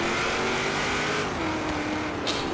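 Cars racing in Forza Horizon 3, with a white car accelerating hard off to the right: a steady, loud engine drone that holds throughout and shifts pitch slightly, with a brief higher burst near the end.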